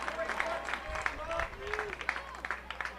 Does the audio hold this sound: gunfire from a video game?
no